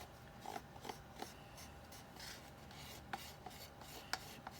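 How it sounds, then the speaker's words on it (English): Hardened resin being scraped off a mold while making snow globe teddy bears, quiet irregular rasping scrapes with small sharp clicks, close and faint. "I'm scraping for all my resin."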